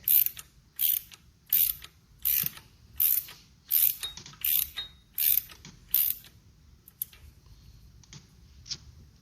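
A ratchet wrench tightens bolts on the O-ring seal of a hydraulic breaker for a mini excavator, producing about nine crisp, close bursts of clicking in a steady rhythm, then a few quieter taps.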